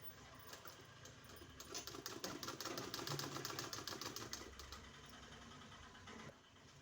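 A sewing machine stitches around cut kurti fabric, a rapid, even mechanical clatter that speeds up and holds for a few seconds, quiet and close, then slows and stops.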